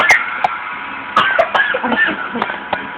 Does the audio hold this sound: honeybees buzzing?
no